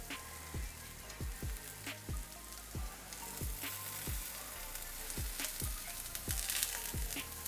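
Jackfruit pieces frying and browning in a pan, a steady close sizzle with crackle, broken by a regular series of soft low knocks, likely from the pan.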